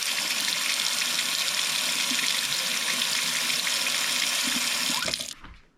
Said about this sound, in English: And rinse it with cold water.